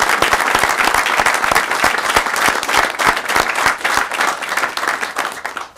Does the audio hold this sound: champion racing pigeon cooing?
no